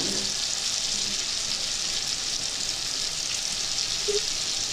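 Onions sizzle steadily in a hot pan with garlic for pork adobo, a constant bright frying hiss with no talk over it.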